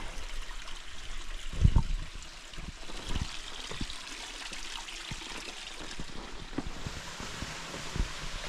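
A waterfall on Arizona's Barnhardt Trail trickles and splashes steadily in the background, soft and continuous, with a few scattered knocks and footsteps nearby.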